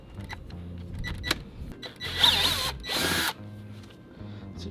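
A power drill bores a fastener hole for a Mugen front lip and side skirts on a Honda Civic Type R, with a whining burst of about a second after softer, intermittent motor noise.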